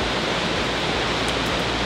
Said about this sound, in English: you just hear that gushing waterfall